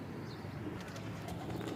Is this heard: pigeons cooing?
yes